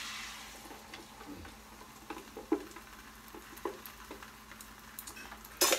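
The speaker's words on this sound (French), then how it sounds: "Donc, votre huile est éparpillée dans la poêlonne. Maintenant, on met l'œuf." Beaten egg fries in oil in a pan with a faint, steady sizzle, broken by soft scattered clicks and taps as it is spread around, quiet and close with no voices.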